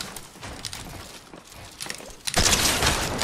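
Shotgun fire in Fortnite: a few sharp, percussive blasts go off in the first half, then a louder, sustained burst of gunfire and clatter breaks out near the end, with no talking heard.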